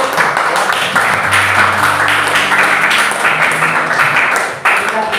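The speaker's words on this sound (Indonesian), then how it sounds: "kita tepuk tangan dulu" A class of students applauds together, a dense sustained patter of clapping filling the room, with a faint tone humming beneath it.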